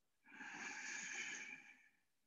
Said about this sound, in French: Toujours une respiration profonde. Moi, vous entendez, elle est assez bruyante